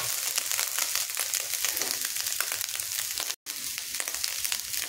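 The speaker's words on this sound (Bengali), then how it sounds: "তো এইভাবে সমস্ত ভাতকে আমি ভেজে নেব।" Cooked rice being fried in a pan with long beans, carrot, cashews and raisins, a dense crackling sizzle with stirring rustles and a momentary break in the sound.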